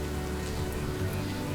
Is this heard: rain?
yes